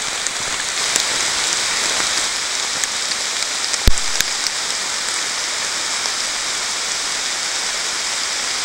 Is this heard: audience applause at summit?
no